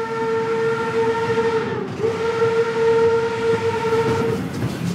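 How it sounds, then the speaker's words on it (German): A museum steam locomotive pulling a work train sounds a loud, sustained whistle that dips briefly midway and then holds again over the low rumble of rolling rail cars. "Roland hängt mit seiner Lok an einem Arbeitszug, der von einer Museumsdampflok gezogen wird."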